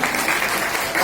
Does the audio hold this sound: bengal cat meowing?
no